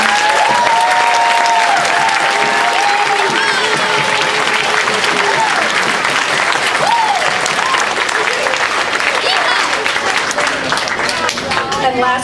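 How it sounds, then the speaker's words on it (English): Loud, sustained applause from a school audience fills the whole span, with cheering voices and whistle-like calls mixed into the dense clapping. "If we could give them a big round of applause as well."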